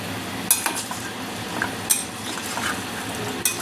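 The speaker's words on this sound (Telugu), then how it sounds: "సాల్ట్ వేసేసాక మొత్తం నీట్గా కలుపు" Salt is stirred into food in a pot, a spoon scraping and clinking against the metal in a few sharp taps amid a steady low sizzle, close and alone.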